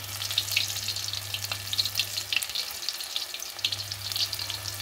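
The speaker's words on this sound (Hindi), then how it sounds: "एक साइड से ऐसे पकौड़े उठाइए और कढ़ाई में डाल दीजिए।" Spinach fritters (palak pakoda) frying in hot oil in a kadai, a continuous close crackling sizzle with small bursts, alone without talk, over a low steady hum.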